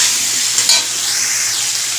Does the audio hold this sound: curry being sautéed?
yes